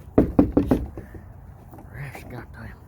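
Four sharp knocks rap on a door in quick succession at a roadside construction site, loud and close, followed by a pause and then someone talking.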